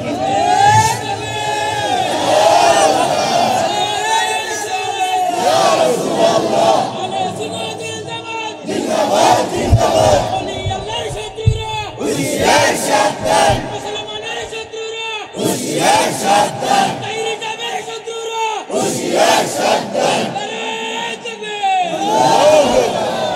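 A huge crowd at a religious gathering chants the slogan "halal" in loud repeated call-and-response waves, with a man leading through an amplified system between the crowd's roaring replies.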